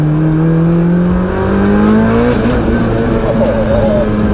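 A Mitsubishi Evo9 tuned to 815 horsepower pulls hard in a single gear, its loud engine note rising steadily as it accelerates, heard close from inside the car with someone speaking over it.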